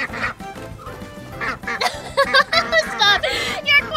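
Cartoon ducks quack in a children's nursery-rhyme show, a run of bright, nasal quacks in quick bursts, close and fairly loud, with playful music and a voice mixed in.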